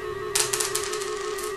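Dice thrown onto a floor during a tabletop game, a quick burst of hard clattering clicks and bounces that rattle to a stop within about a second, fairly close and clear with no talk.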